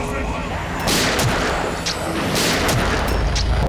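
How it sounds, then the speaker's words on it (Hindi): Loud, booming gunshots burst out a few times amid dense, noisy background, close and harsh. "उन्होंने उस पर गोली चलाई"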